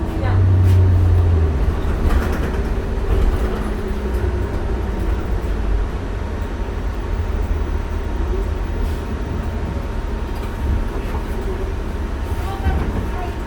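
Interior ride on a 2007 New Flyer D40LF transit bus, number 8012, in North Haven, Connecticut: a steady low engine and road rumble fills the cabin, with a rev swell at the start and people talking intermittently over it.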